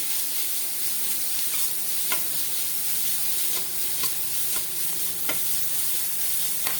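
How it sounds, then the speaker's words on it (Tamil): Chopped vegetables for a veg omelette sauté in a pan with a steady, close sizzle. Occasional sharp taps and scrapes of a stirring spoon cut through the sizzle. "ஒரு நிமிஷம் மட்டும் நல்லா வதங்கட்டும்."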